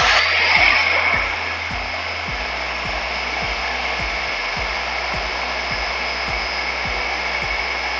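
An electric mixer whirs steadily and close while blending a keto strawberry ice cream base with heavy whipping cream, a continuous motor drone with faint regular ticking throughout.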